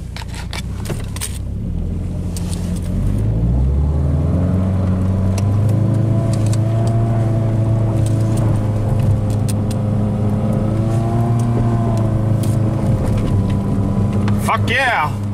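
A cheap car's engine revs as it backs up on a back road, pushing a strong, sustained drone that rises and shifts in pitch, with a brief clatter near the end.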